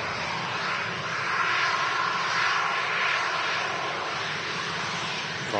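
A fixed-wing aircraft at Manchester Airport passes with a steady, broad engine roar that swells gently and holds for several seconds, moderately distant and without voices.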